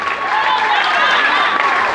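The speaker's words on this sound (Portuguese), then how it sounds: "Vai uma salva de palmas para vocês, pode ser?" Applause for a couple at a celebration at Palácio Rauliana, a dense, steady clapping from a crowd that holds for the full two seconds with no gaps.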